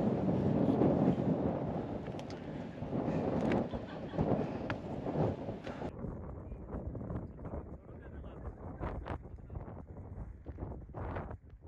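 Strong wind gusting across an open Gobi desert landscape, buffeting the microphone with a loud, continuous roar that eases slightly partway through.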